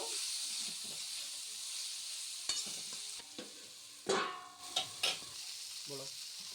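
Chicken pieces cooking with turmeric in a pan for chicken chow mein, a soft steady hiss broken by a few sharp spatula scrapes and stirring clatters near the end, no talk.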